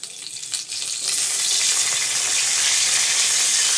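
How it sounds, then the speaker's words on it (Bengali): Bay leaf dropped into hot oil for tempering sets off a steady, bright sizzle that swells after a soft start and holds loud and close with no talk. "একটু পরিমাণ তেল নিয়ে নিলাম, দিয়ে একটু তেজপাতা দিয়ে দিলাম ফোড়নে।"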